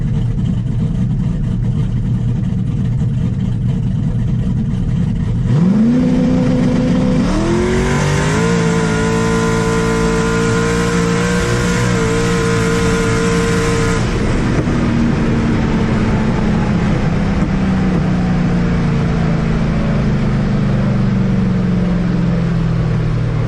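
A Tesla Model S Plaid races a twin-turbo Chevy Silverado: a loud engine roar rises and climbs steadily through the run, holds near and strong, then drops away into a long fading tail.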